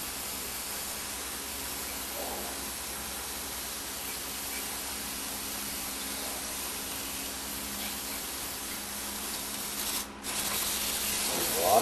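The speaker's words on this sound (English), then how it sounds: "There's a lot of brake cleaner when we do one of these units." Brake cleaner spraying continuously onto a Meyer E 47 hydraulic unit during a rebuild, a steady close hiss that runs almost unbroken with a brief pause near the end.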